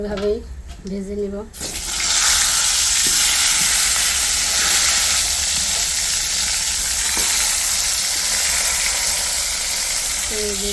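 A steady, loud sizzle of eggplant slices frying in oil in a kadai fills most of the clip, close by, after a quieter opening with a brief voice-like sound.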